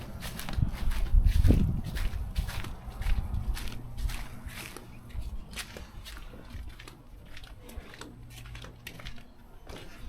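Footsteps walking around the back of a house on a hard outdoor surface, a steady series of close steps with louder scuffs early on, then softer, more even treads.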